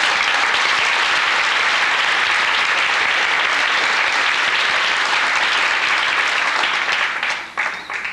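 A large audience claps warmly and steadily for a performer introduced before a 1997 bottle band performance, the thick applause filling eight seconds before tapering off at the end.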